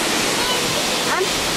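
The rushing roar of a waterfall at Stewart Falls, a loud, dense and steady wash of falling water heard close up, with no other sounds standing out.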